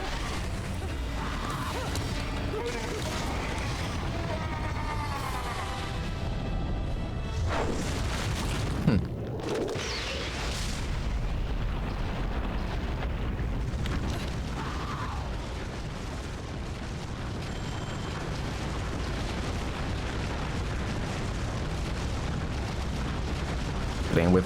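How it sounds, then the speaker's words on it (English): A building collapsing amid explosions in Bayonetta, a dense continuous rumble with repeated booms and crashing debris, loud throughout, with voices talking over it at times. "the building is collapsing behind us"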